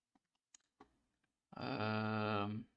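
A few quick, light keyboard key clicks while entering a shortcut in Blender, spaced apart and close by, followed by a longer sustained voiced hum.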